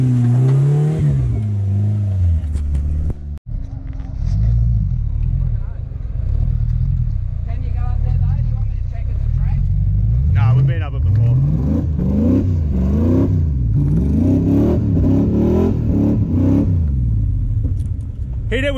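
A four-wheel drive vehicle churns through mud while hard off-road driving, its engine droning steadily and revving up and down in repeated loud surges, with people talking over the noise.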